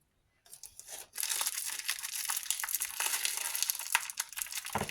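Adhesive tape is ripped from a Temu parcel's packaging up close, a long, loud crackling tear with crinkling bursts, following a brief rustle.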